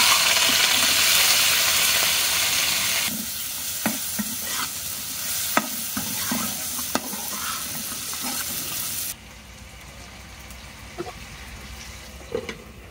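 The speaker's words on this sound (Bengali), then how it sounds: "শুটকিগুলো ভর্তা করার জন্য আমি এখানে পেঁয়াজ, রসুন, কাঁচামরিচ, লবণ, হলুদ সবকিছু দিয়ে ভেজে নিব।" Dried fish frying with onion, garlic, green chili, salt and turmeric, likely over a clay stove. A strong, constant sizzle runs throughout, broken by repeated stirring scrapes and taps, and drops noticeably quieter near the end.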